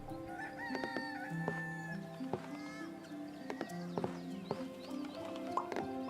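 Chicken crowing in a video game, several overlapping cock-a-doodle-doo calls with clucks and other farm animal sounds in a busy, steady game soundscape.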